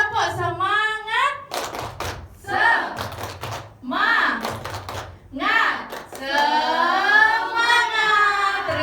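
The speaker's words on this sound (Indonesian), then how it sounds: "Yuk, tepuk semangat." A classroom's rhythmic clapping cheer led by a teacher, with short bursts of claps set between chanted and sung voices, the group clapping and calling out together in a patterned beat.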